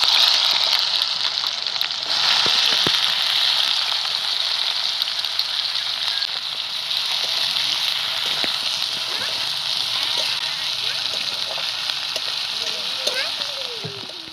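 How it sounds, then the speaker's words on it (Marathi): Onion frying in hot oil with cumin and mustard seeds for a wild-tuber vegetable dish makes a loud, continuous sizzle and crackle, with occasional light spoon clinks and faint talking in the background. "तेल चांगलं गरम झालं की जिरी आणि मोहरी घेतली मी जिरी मोहरी चांगली ताडताडली की कांदा टाकते त्यात"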